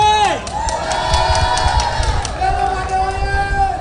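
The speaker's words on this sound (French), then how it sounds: "Applaudissez!" A large crowd at a Guinean presidential campaign rally in Mamou cheers, shouts and claps loudly and continuously, a close, roaring mass of voices with whoops rising over it.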